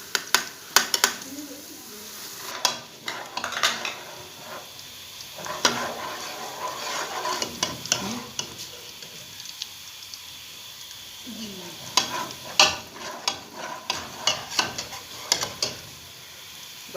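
Garlic is added to browned onions in a pan for a kaddu gosht (pumpkin and meat) curry, giving soft sizzling and intermittent scraping stirs, fairly quiet, with someone talking over it at times.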